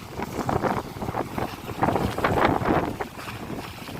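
Wind-driven waves on the Brahmaputra river churn and slosh steadily, a loud continuous rush of water broken by irregular splashes and gusts buffeting the microphone.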